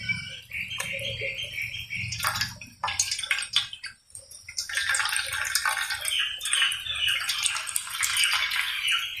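Water splashes and trickles steadily, with drips and patter as it drains off, close by and with no talking.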